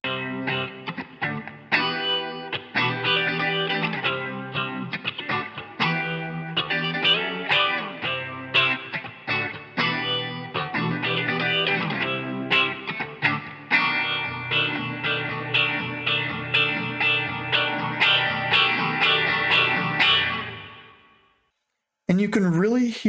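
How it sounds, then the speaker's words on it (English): An electric guitar plays with tremolo, delay and reverb in a REAPER mix, its chords pulsing and echoing steadily for about twenty seconds before fading out, followed by a brief burst of something else. "There's almost like a tremolo type effect. There's a little bit of a delay."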